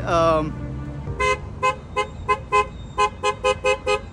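A car horn honks repeatedly in short bursts on a street in Grozny, Chechnya, about ten toots in quick succession, loud and close, after a brief voice at the start.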